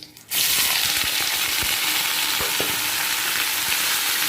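Potatoes dropped into hot oil in a pan with two green chilies, bursting into a loud, steady sizzle that holds evenly throughout, with a few faint stirring clicks underneath.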